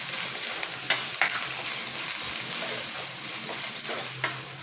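Pork being stirred in a hot pan with annatto oil while making pastil, a steady close sizzle broken by a few sharp spoon scrapes and clinks.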